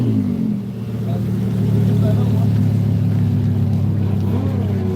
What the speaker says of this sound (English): It's even a pretty clean GTO out here running.